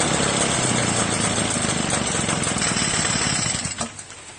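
A small engine with a faulty carburetor runs close by with a steady buzzing rattle, then cuts out and sputters to a stop near the end.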